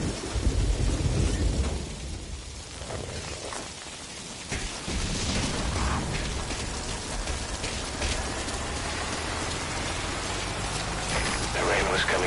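Heavy rain pours steadily in Metal Gear Solid 5, a dense hiss of drops with a deep rumble of thunder early on, loud and continuous throughout.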